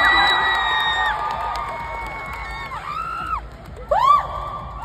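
An audience at a lively stage show cheers and whoops loudly, with rising shouts near the end. The crowd noise is close and sustained, and a few voices stand out above the rest.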